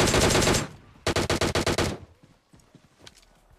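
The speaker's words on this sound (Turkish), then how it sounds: "Beyler bunlar bize mi sıkıyor dümdüz?" Loud automatic gunfire in PUBG Mobile: a long rapid burst, a short pause, then a second burst of about eight sharp shots, followed by fainter scattered distant shots.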